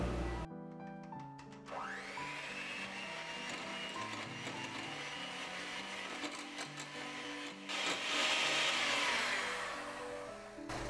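An electric mixer whisks muffin batter with milk, a steady loud whirring drone that shifts pitch as the beaters move through the bowl, rising slightly toward the end.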